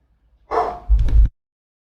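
Dog barking from another room indoors, a short burst of one or two muffled barks, then quiet.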